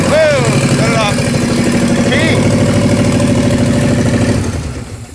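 A 1968 Ford Mustang Mach 1 V8, pulled from a junkyard, settles into a loud, steady idle right up close after firing, its low rumble holding for several seconds before cutting off, with people talking over it.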